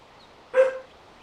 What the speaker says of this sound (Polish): Aha, piesek.